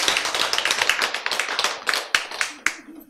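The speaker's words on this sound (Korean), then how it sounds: "박수 쳐야지." Audience applause in a lecture hall during a Korean medical lecture, dense overlapping hand claps that stay steady and fairly loud, then thin out into a few last sharp claps at the end.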